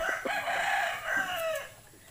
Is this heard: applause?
no